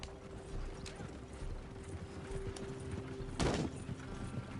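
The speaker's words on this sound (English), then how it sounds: "Horses won't go this fast for long." Horses gallop with a steady clip-clop of hooves in the Red Dead Redemption 2 video game, moderately loud, with a brief burst of noise near the end and a low background drone.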